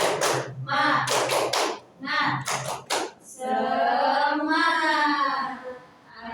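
Classroom clapping chant led by a teacher with children, rhythmic bursts of claps alternating with chanted voices.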